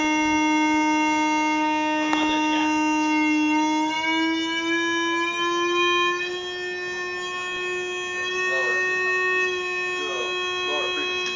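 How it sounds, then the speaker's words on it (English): A steady sine-wave tone drives a propane flame tube (Rubens tube) set up for standing waves, holding one pitch with faint overtones loud and continuous throughout, with a brief shift partway and soft background noise. "Now we can start filling this with a nice sine wave."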